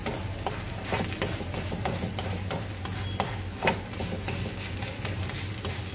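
Raw papaya thalipeeth flatbread roasts on a hot pan with a soft, steady sizzle and occasional light crackles and pops, close and moderately quiet, with no talking.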